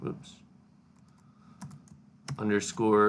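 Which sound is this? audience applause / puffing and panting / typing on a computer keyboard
typing on a computer keyboard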